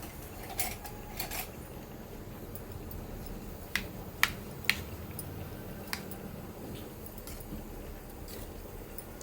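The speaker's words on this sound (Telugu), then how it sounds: "సో అందుకని స్పూన్తో కలుపుతున్నాను అనమాట." A metal spoon scrapes and clinks against the pot while chicken pulav with mint is mixed, soft moist stirring with a handful of sharp, isolated clicks, fairly quiet and without talk.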